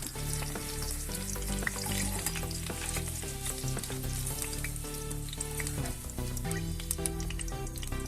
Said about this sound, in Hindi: बिल्कुल ऐसे ही हमें फ्राई करनी है।